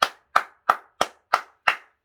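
A church congregation at an early-morning service claps in unison, six sharp, evenly spaced claps ringing out loud and close with no talk between them.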